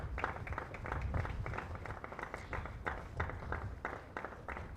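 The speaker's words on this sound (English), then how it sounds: "There's a big applause." A county championship cricket crowd at Leicestershire v Sussex applauds after a one-handed catch, steady scattered clapping from spectators at a moderate distance, with no voices over it.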